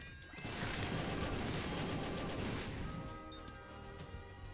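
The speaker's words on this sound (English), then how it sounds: "Why are our shots hurting us? Because they explode?" Rapid exploding shots from The Binding of Isaac: Repentance, a dense burst of blasts and crashes rolling together continuously, loud and close, with no voice over them.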